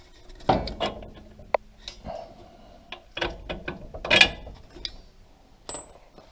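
A ratchet wrench working a bolt loose on a Toyota 4Runner shock absorber: scattered close metallic clicks and clanks in short bursts, with a few sharp ringing taps between quieter gaps.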